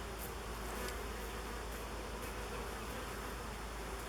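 An open honey bee hive being split gives off a loud, steady, dense buzz of many bees, continuous and close, with no voices.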